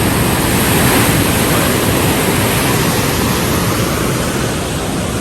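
Heavy canal water at the BRB canal in Narang rushes loudly and continuously close by, a dense, roaring broadband wash with no pauses.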